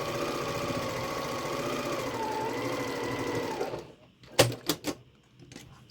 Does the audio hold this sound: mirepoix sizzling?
no